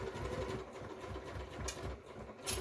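A sewing machine stitches a reusable freezer bag, a close, steady mechanical whir with rapid needle pulses running throughout and no speech.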